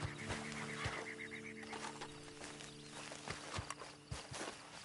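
Horse neighing and hooves in Red Dead Redemption 2, a whinny early on followed by irregular clopping hoof steps at a moderate distance, with no talk.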